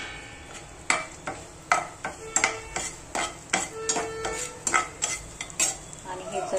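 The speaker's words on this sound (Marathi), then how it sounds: "तो तेलामध्ये फ्राय करायचा." Green chillies and crushed peanuts fry in oil in a pan, a soft sizzle under repeated sharp scrapes and clacks of a spoon stirring at an uneven rhythm, close and alone.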